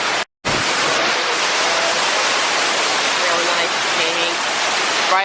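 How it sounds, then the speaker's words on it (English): Waterfall tumbling into a brook trout tank at an aquarium, a steady broadband roar close by that fills the whole clip, with one brief dropout near the start. "That's a really nice waterfall."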